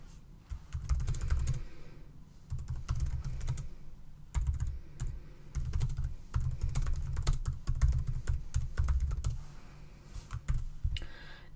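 Rapid typing on a computer keyboard, with bursts of clicking keystrokes broken by short pauses, close and fairly quiet.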